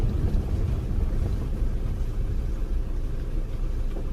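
Bolero pickup driving over a bad, potholed road in the rainy season, with a steady loud low engine and road rumble, bumping and wind buffeting throughout and no talking.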